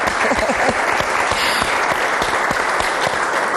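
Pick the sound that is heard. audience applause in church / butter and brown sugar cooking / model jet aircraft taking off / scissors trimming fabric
audience applause in church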